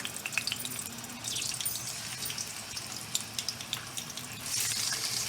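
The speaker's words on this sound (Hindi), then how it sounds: "इसमें 1 चम्मच अदरक लहसुन का पेस्ट डालेंगे हम, और साथ ही चिकन डाल के इसको भून लेंगे" Chicken frying with ginger-garlic paste in a pan for lauki gosht, a steady soft sizzle with faint scraping and stirring sounds throughout, fairly quiet and close, growing a little louder near the end, no talking.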